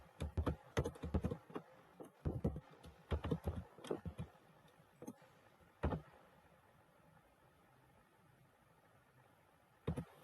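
Python code being typed on a computer keyboard: quick clusters of crisp, close keystrokes in bursts, then a pause broken by a few isolated taps, no talk.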